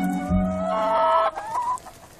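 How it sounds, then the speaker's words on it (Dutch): Chickens in the outdoor run of a round poultry barn cluck and call up close and fairly loudly, with one drawn-out crowing-like cry over a soft background of other fowl. "Dan staan we tussen de kippen in het buitenverblijf."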